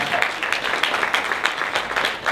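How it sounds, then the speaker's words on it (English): A comedy club audience at Levity Live breaks into steady applause, a dense wash of many hands clapping together at close range for a couple of seconds, with no voices over it. "Give him a hand."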